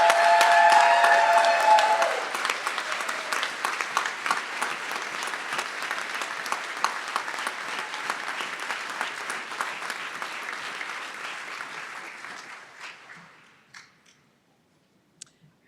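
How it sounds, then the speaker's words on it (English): Audience at a Kent State Stark commencement ceremony applauding graduates, a loud sustained wave of clapping that gradually thins into scattered claps and dies away to near silence. "Let's have one more round of applause for these graduates."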